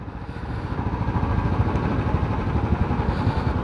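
A motorcycle engine chugs loud and close with a fast, steady throb as the bike rolls out through the Dhulagarh toll plaza, rising slightly as it pulls away.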